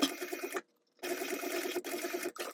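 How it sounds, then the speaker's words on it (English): A sewing machine runs quick rows of stitching for a sling, a fast even mechanical patter in short bursts with a brief pause between runs, close and clear with no voices. "you can go ahead and do a row of quick stitching from here down at 1/8 of an inch away"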